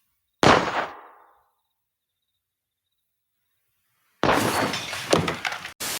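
A sharp glass bottle smash rings out and fades, then after a silent pause a second, longer burst of breaking and shattering glass bottles, loud and close.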